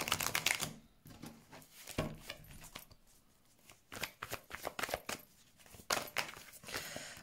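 A deck of tarot cards is shuffled by hand in repeated riffling bursts, close and fairly quiet, with brief pauses between flurries of crisp card flicks.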